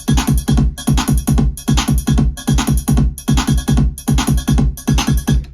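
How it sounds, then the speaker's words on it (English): A steady electronic drum beat sequenced from a vector sequencer and played through an Assimil8or sampler module, with loud, evenly spaced rhythmic hits repeating in a tight pattern and no voices. "I'm going to be running a beat from my vector sequencer to the ROSM assimilator"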